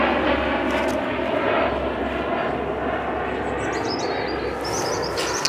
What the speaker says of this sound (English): Allow the aeroplane to head over.